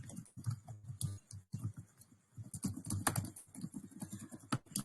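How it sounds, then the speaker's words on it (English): Fingers type rapidly on a computer keyboard in clustered bursts of crisp clicks and taps, with brief pauses between runs; the keystrokes are close and clear, with no talking. "Just typing anything because I want to show you something."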